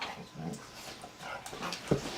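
A dog whimpers and whines in short, soft bursts with a little panting, fairly close and moderately quiet, ending in a sharper yip.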